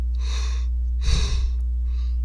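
A person yawning, three drawn-out breathy exhalations with the middle one loudest and deepest, close and alone over a steady low hum.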